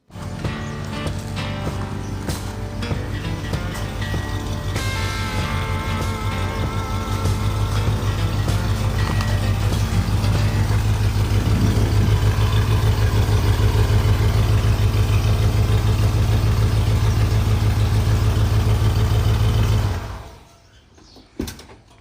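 A classic Ford Bronco engine idles with a steady low rumble for about twenty seconds, loud and close, with faint clatter and background noise over it, before cutting off abruptly near the end.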